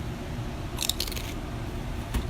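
Crispy homemade fried potato chips bitten into up close, a short burst of sharp crunches around the middle of the moment, then quiet chewing, with no talk over it.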